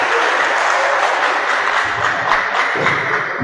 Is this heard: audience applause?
yes